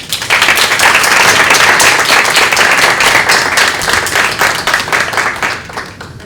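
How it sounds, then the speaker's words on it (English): Dense, close audience applause at a Korean conference panel, steady clapping that holds loud throughout and eases slightly at the end. "let's just give everybody a big applause"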